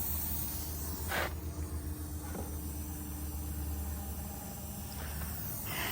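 A faint, steady hiss of air from a vacuum tester on a vehicle cooling system runs throughout over a low hum, with a few brief bursts of sharper hissing.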